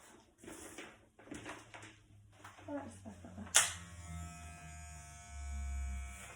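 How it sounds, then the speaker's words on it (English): Electric hair clipper fitted with a number 2 guard starts up partway through a gents haircut, giving a close, steady mechanical buzz that holds after some quieter handling noise. "Now put your number 2 clipper guard on and make sure that the lever is down"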